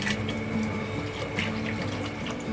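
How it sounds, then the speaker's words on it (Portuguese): One liter of milk pours into a pot for white canjica, a steady soft liquid stream running for a couple of seconds without any voices. "Nós vamos colocar, ó, 1 litro de leite"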